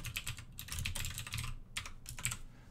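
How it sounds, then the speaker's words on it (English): Rapid typing on a computer keyboard, irregular bursts of clattering keystrokes close to the microphone with a few short pauses between runs, no voices. "I'm going to apologize for the keyboard because I'm going to make a lot more noise"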